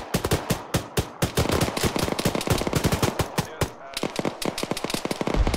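Gunfire from a firefight in Arma 3 during an ambush on a patrol: rapid bursts of automatic rifle fire and sharp single shots in fast, uneven succession, loud and close, with a brief lull before more shots.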